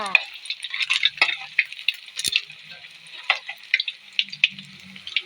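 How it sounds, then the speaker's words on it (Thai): A seasoned mixture frying in a pan, with steady crackling sizzle and scattered sharp pops throughout, moderately close and with no voices. "หลังจากที่เฮาผสมเครื่องเรียบร้อยนะจ้าเฮามาทอดกัน"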